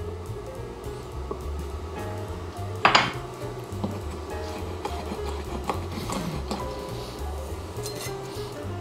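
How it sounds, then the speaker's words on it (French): A knife taps repeatedly against a cutting board, chopping olives into small pieces in a home kitchen, with soft irregular knocks and one sharper clatter partway through. "j'en profite pour couper mes olives en petits morceaux"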